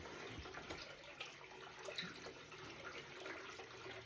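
Tap water running into a sink to wet a flannel, a steady soft splashing stream that is quiet and continuous, with no voices.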